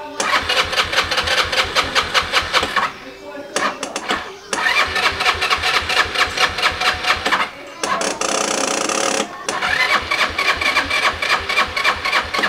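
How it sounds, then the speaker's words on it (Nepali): A scooter engine is started repeatedly, sputtering in rapid rhythmic bursts that cut out briefly several times before catching again, close and loud. "सो पहिले यहाँ बाइक स्टार्ट गरौँ"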